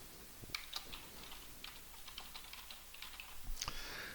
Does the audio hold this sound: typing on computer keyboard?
yes